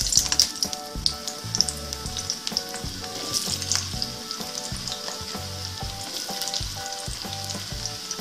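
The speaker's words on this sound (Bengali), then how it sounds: "ওই একই তেলেতে আমি প্রথমে আলুটাকে ভেজে নেব।" Potatoes fry in hot oil for a raw banana kofta curry, a steady close crackling sizzle with occasional stirring and a faint intermittent hum underneath.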